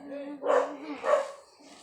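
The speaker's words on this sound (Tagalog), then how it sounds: "Ang ingay ng mga aso sa labas, grabe." Dogs barking outside, heard as two muffled, rough barks about half a second apart, with a faint steady whine or voice-like tone running underneath throughout.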